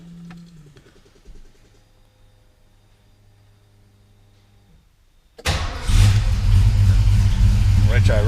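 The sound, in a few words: Ford Fairmont XC GXL car engine starting and revving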